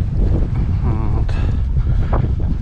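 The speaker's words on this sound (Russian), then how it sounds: "Ветер сильный." Strong gusty wind buffeting a microphone in a canyon, a dense low rumble throughout with faint voice-like bits mixed in.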